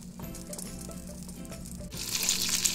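Unsalted butter melting in a pan, a soft steady sizzle under a low hum that swells into a louder, brighter hiss near the end.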